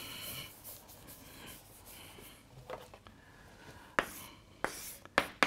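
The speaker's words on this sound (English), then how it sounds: "now I can erase all these" A board gets erased after a physics lecture on quantum states: soft, close rubbing strokes over a quiet hiss, ending in a few sharper bumps and scrapes, with no talking.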